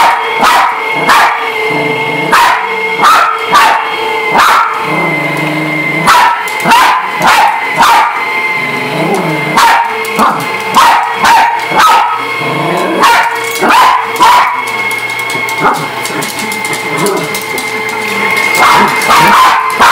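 A dog barks and yips repeatedly at a vacuum cleaner, close and loud in uneven bursts, with whimpering between barks over a steady motor hum.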